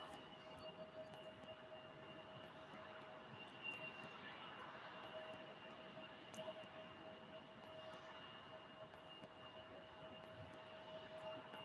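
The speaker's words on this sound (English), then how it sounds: "That's actually FedEx with the MD-11." A FedEx MD-11 jet aircraft taking off at Salt Lake City International Airport, a steady distant engine roar with a sustained whine, faint and unbroken throughout, with no talking.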